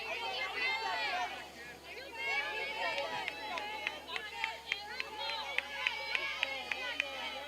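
Crowd at a WIAA Division 3 high school baseball sectional semifinal, Laconia at Lomira, reacting to a called strike two with a sustained murmur of disapproving voices and scattered shouts, heard from a distance.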